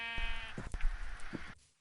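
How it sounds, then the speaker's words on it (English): A single close, nasal bleat from a sheep in Minecraft, wavering for about a second before cutting off to silence. "Sheep."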